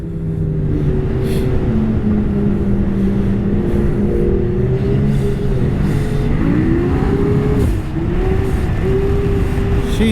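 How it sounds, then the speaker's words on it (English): A two-stroke 850 snowmobile engine runs loud and close while riding back into a town in Gaspé, Quebec, its droning note rising and falling with throttle changes, and no one speaks. "It's a fun sled, and that popping sound is awesome."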